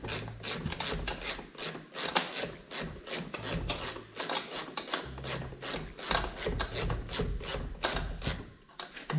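A wrench unscrewing the lower nut while a boat engine is removed, with a rapid series of rasping, ratcheting strokes in a steady rhythm, close and loud, continuing throughout.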